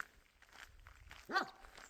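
Dogs on a rural walking trail in Santa Catarina's Vale Europeu countryside, heard as one sharp, close bark that stands out over soft footsteps and faint background noise.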